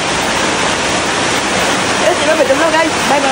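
Heavy rain pours steadily as a dense, loud, close hiss filling the whole stretch, with a faint voice coming in near the end.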